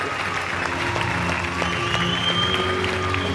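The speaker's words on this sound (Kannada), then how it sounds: "ಅಶ್ವಿನಿ ಪುನೀತ್ ರಾಜ್ಕುಮಾರ್ ಅವರಿಗೆ ಜೋರಾಗಿ ಚಪ್ಪಾಳೆ" Audience applause at the Chittara Star Awards 2024 ceremony as Ashwini Puneeth Rajkumar receives the Star Achiever award, a dense, steady clapping from a large crowd filling the hall throughout.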